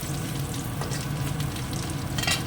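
Grated coconut fried with cumin and dried red chillies in hot oil gives a close, continuous sizzle with light stirring scrapes, steady and fairly loud, with no voice.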